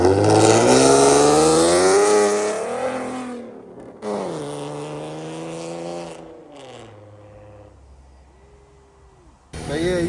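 Ford Mustang with aftermarket rims revving hard and pulling away, loud rising engine tones at first, then gear changes as it fades into the distance, with a brief burst at the end.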